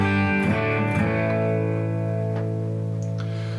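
A Gibson Les Paul Tribute 50s with humbuckers runs through a Joyo Voodoo Octave fuzz pedal with octave-up engaged, giving a thick, buzzing sustained chord after a couple of struck notes, loud and close.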